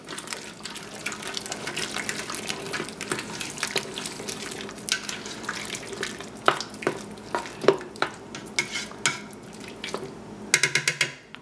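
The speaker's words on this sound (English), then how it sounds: "Stir that in." Minced garlic being stirred into a beef and red potato soup mixture in a pot: a soft bubbling, watery simmer with scattered spoon scrapes and clinks, and a burst of metallic rattling at the end.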